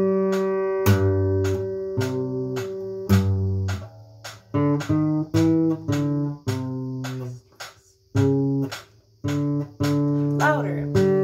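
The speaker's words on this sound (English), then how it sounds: "All right, I'll put the metronome on now and try to do it at 108." Bass guitar playing the St. Anthony Chorale at 108 bpm against a metronome, with a steady sharp click throughout under sustained low notes that change in even phrases.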